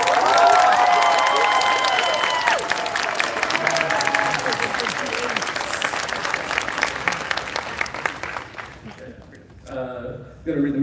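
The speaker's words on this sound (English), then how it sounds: "Give it another round of applause for" A convention panel crowd at Anime Expo applauds and cheers loudly, with sustained dense clapping and whoops over a voice on the speakers, before the applause thins out near the end.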